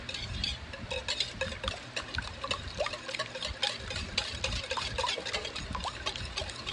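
Clafoutis batter whisked in a bowl, heard as a continuous wet, swishing churn with soft rapid ticks of the whisk, close and low in level, with no talking.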